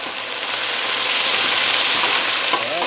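Rice and bell peppers frying in a hot pan, a loud continuous sizzle with scraping stirs near the end.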